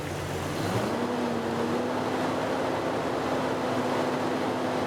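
A car engine with a slight misfire runs steadily after being revved a little, holding a continuous, fairly loud drone with a faint rise in pitch near the start and no talk over it.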